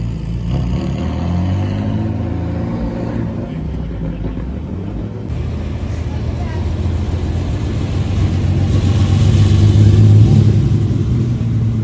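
Powerful Ferrari race car engines rumble and rev nearby at the Pebble Beach Concours during Car Week 2025, building louder toward the end, with voices talking over the noise.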